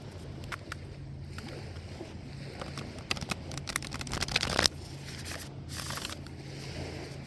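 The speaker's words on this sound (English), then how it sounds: "I'm going to give the cards a quick shuffle" Oracle cards from The Shaman's Dream Oracle deck being shuffled by hand, a steady papery riffling and rustling with a louder burst of card flutter midway, close and alone over a low background hum.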